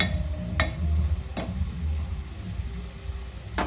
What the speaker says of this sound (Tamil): உருளைக்கிழங்கு இப்போ ஓரளவுக்கு பொரிஞ்சு கொண்டு வந்துட்டு இன்னும் பொரியட்டும்